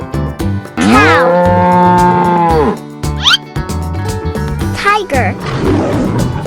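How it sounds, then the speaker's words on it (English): A cartoon cow gives a long, loud, drawn-out moo, followed by shorter mooing calls over busy children's cartoon music and voices. "cow"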